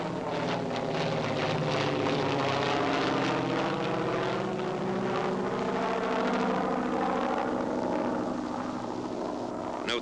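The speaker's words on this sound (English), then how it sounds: "Note the takeoff of the PBY before the glider." A PBY flying boat's propeller engines roar loud and continuous as it takes off towing a CG-4A glider, a steady droning rumble with wind buffeting throughout.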